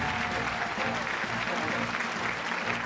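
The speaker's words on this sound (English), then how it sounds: "Give him a big round of applause." Audience applause for the runner-up at a live pasta cooking competition event, a steady dense wash of clapping hands held at an even level throughout, with a faint murmur of voices underneath.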